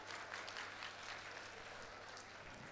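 Audience clapping loudly and steadily at a Hindu religious katha gathering at Karah Dham, Gwalior, a dense continuous applause with no voices over it.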